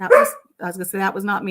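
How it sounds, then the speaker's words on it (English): A single sharp dog bark rings out at the start, loud and close in an indoor room, followed by a short pause and a person talking. "That was the dog."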